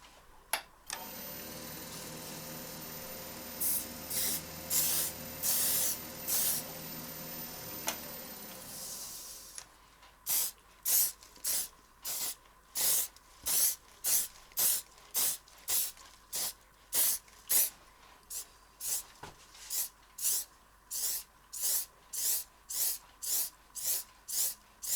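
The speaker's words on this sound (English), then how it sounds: "The finish on this one, I'm going to use a clear lacquer." Clear lacquer is sprayed from a spray can onto a wood-turned bowl in a long steady hiss, then in a run of short, rhythmic bursts, all fairly close with no talking.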